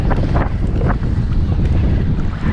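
Wind gusting at sea around a kayak in fog, a steady broadband rush with buffeting on the microphone and low water noise throughout, loud and close.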